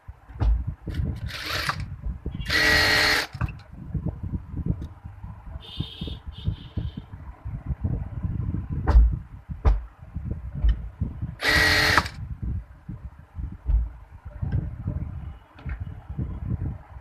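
A sewing machine stitches a baby frock in quick, rattling bursts of fast mechanical pulses, close up and moderately loud, pausing briefly between runs.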